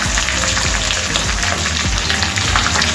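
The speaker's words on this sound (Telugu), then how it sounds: "ఇవన్నీ వేసుకొని ఇలా మంచిగా వేయించుకోవాలండి." Mustard seeds, cumin and chillies frying in hot oil for a raw mango pulihora, a loud, steady close-up sizzle with crackling pops throughout.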